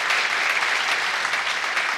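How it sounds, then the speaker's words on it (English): Conference audience applauding after a talk, a dense, steady wash of many hands clapping together at full loudness for the whole stretch, with no voices rising above it. "Big round of applause."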